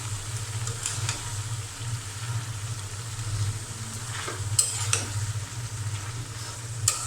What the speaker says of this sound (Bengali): তো এখানে মূলাটা কষানো হচ্ছে।